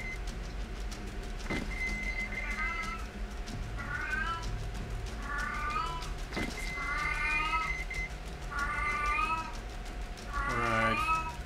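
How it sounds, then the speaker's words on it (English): A pet cat meows repeatedly up close, around half a dozen drawn-out, wavering cries spaced a second or two apart over a low hum of background game sound, the last call loudest. "don't mind my cat"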